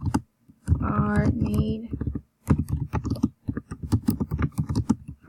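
Computer keyboard typing, with quick irregular clusters of clicks and keystrokes close to the mic, partly under a person speaking.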